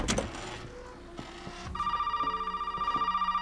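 Telephone ringing inside the video game Resident Evil 7, a steady electronic trill that begins partway through after a few scattered thumps and clicks, fairly close and continuing to the end, with no voices.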